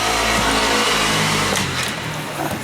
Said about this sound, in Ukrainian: Тут у мене мотоцикли їздять, звиняйте.